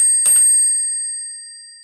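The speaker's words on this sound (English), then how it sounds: "At the end of this final part, the bell was rung several times." A single bright bell strike rings out at the close of a start-up pitch session, leaving a clear, sustained metallic tone that slowly fades in an otherwise quiet room.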